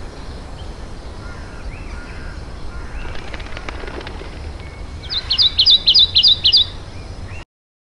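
Steady ambient rainforest background gives way to a short burst of high, rapid chirping tropical bird calls repeated several times near the end.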